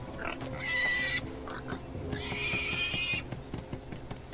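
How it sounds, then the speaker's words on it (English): Pigs squeal and scream in the video game Divinity: Original Sin 2, two loud, shrill bursts close together over a soft game backdrop, with no talking. "now that all the pigs are done screaming"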